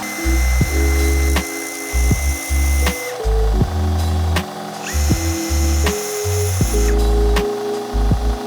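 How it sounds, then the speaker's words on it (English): A sanding wheel chucked in a power drill whines loudly and steadily as it scrapes loose fibers off homemade slingshot darts, the motor pitch shifting with repeated bursts and brief pauses. "So I'm gonna throw these back in the drill chuck and use my sanding wheel here."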